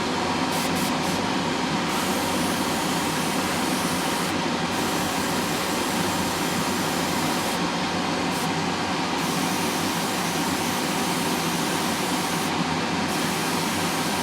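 An airbrush sprays Mr. Hobby paint onto a 1/72 Academy F/A-22A Raptor model kit, a steady close hiss of air running continuously with a few brief breaks, no talking.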